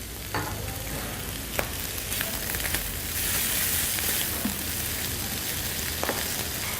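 Mushrooms frying in olive oil in a pan for seafood paella, a loud continuous sizzle with occasional stirring scrapes and taps, without any talk.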